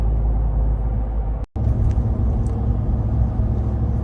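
A 2022 Ram TRX Ignition Edition pickup gives a heavy, loud low rumble from its engine, cutting out for an instant before resuming as a steady drone.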